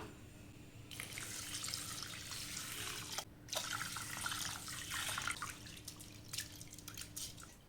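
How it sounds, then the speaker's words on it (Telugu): Water runs from a tap and pours over washed basmati rice left to soak, a steady trickling splash that pauses briefly midway and then resumes. "ఇప్పుడు బియ్యం మునిగేంత వరకు వాటర్ అయితే పోసేసుకుందాం"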